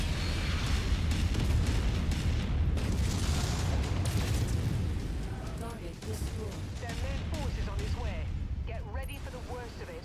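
Explosions in the video game Mechwarrior 5 destroying an artillery garrison: heavy, dense rumbling blasts fill the first half and then ease into a continuing lower roar, with a voice talking over the latter part.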